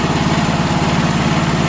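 Bobcat 310 skid steer engine running warm, a steady close mechanical drone with a fast low pulsing rhythm and no variation in pitch or loudness throughout.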